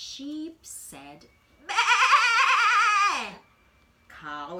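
A storytelling voice imitates a sheep bleat, a single long wavering baa in a children's picture-book reading about a little blue truck, loud and close, between spoken lines.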